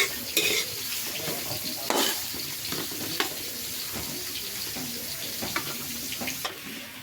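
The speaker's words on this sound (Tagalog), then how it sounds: "gisa-gisa ako para sa spaghetti naman" Garlic, onion and carrots sautéing in a pan for spaghetti, with a steady close sizzle, stirring scrapes and a few sharp clanks of the utensil against the pan.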